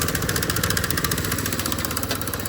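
A broken motorcycle bought from Tractor Supply runs after being pull-started, its engine idling close by with a steady, rough, buzzing putter and no talk over it.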